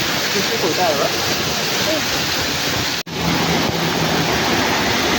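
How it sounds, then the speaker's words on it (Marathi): A fierce river waterfall pouring steadily, a dense continuous roar of rushing water close by, with a brief dropout partway through. "तर मित्रांनो बघू शकता कसला वॉटरफॉल आहे ना, खतरनाक वॉटरफॉल आमच्या इकडचा"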